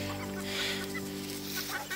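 Backyard coop chickens clucking close by over a steady low hum, with soft overlapping calls throughout.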